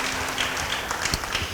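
Applause from a church congregation during a sermon, an even wash of clapping with a few sharper hand claps standing out, moderately loud and continuous.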